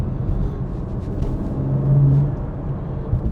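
BMW M3 fitted with titanium front mount intakes, heard from inside the cabin with windows closed: a low steady engine rumble and intake drone that swells briefly mid-clip.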